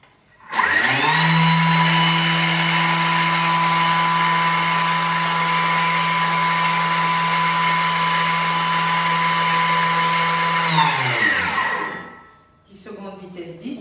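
A Thermomix blade spinning at speed 10 grinds sugar into icing sugar: a loud, steady high-pitched whir that starts abruptly, holds for about ten seconds, then winds down, followed by a brief voice.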